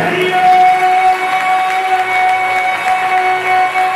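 A church congregation claps and cheers loudly and continuously, a dense crowd roar with steady applause and sustained tonal shouts or voices rising above it.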